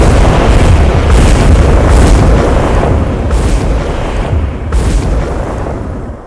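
Explosions of meteors striking the Earth, a series of deep booming blasts, loud and close, with rumbling low-end impacts recurring every second or so and a slowly fading roar between them.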